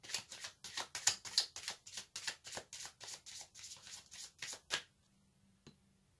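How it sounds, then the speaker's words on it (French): Aromatic oracle cards being shuffled by hand, a steady run of quick riffling flicks close and clear for several seconds, then quiet with one last soft tap. "je vais tirer une carte de l'oracle aromatique"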